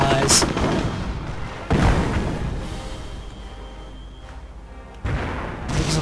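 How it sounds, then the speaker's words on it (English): In a WWII strategy game, machine gun fire and other battle noise rumble through a dense mix, with heavy bursts and booms under a steady din of combat. "The machine gun once again suppressing a Panzer Grenadier squad."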